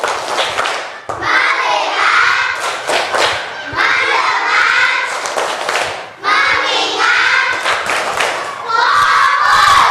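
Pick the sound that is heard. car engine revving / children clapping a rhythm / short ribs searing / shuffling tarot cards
children clapping a rhythm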